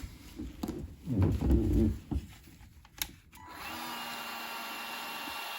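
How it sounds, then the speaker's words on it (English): A cordless heat gun switches on to heat crimped wire connectors while replacing livewell pumps on a Nitro Z8 bass boat, a steady fan whir and hiss that starts after some handling clatter and runs to the end. "Now I'll use my heat gun."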